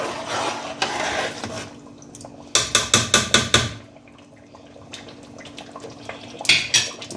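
A spoon stirs Nigerian turkey stew in a pot, giving bursts of rapid, rhythmic scraping and clinking with quieter gaps between, close and fairly loud.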